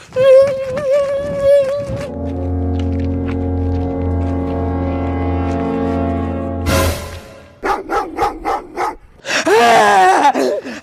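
A dog yips, whimpers and barks close and loud, with a long drawn-out whine in the middle and a quick burst of barks at the end.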